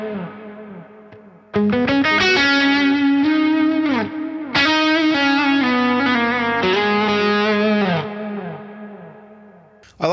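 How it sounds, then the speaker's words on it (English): Electric guitar played through an ARP87 delay pedal plus heavy reverb on a pedalboard rig: sustained chords ring out with long echoing trails, a new chord struck midway, then everything decays into a reverberant tail before another attack. "that's a lot of reverb and delay"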